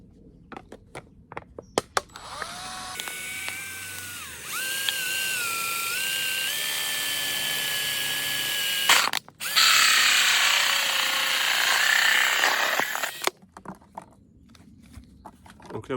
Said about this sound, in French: La première étape, ce sera donc de percer le fond de la bouteille là.